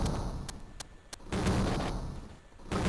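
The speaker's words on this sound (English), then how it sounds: "The sphere resting on the tripod exudes an unbelievably blasting roar," Explosion-like blasting roar from a sphere on a tripod in the video game Tower of Myraglen, a series of sharp booming bursts and rumbling blasts at moderate level.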